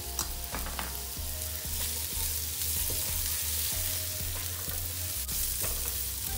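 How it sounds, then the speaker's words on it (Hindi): Sliced vegetables and bell pepper frying in a pan for macaroni pasta, a steady close sizzle with periodic light taps of a spoon stirring, no voices. "सब्जियों को आपने बहुत ज़्यादा गलाना नहीं है, बस इनको जस्ट फ्राई करना है"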